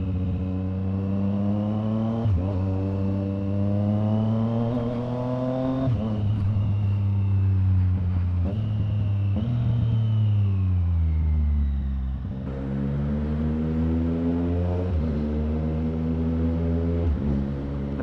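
A Triumph Street Triple R motorcycle fitted with a Zard exhaust revs loud and near, rising through several pulls with sharp drops between them on downshifts, and no voices are heard.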